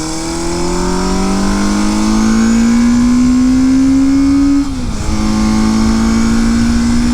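A 1973 Honda CB500 motorcycle with freshly synchronized carburetors runs smoothly while being ridden, its engine droning loud and steady as it climbs in pitch, briefly dips at a gear change, then pulls again.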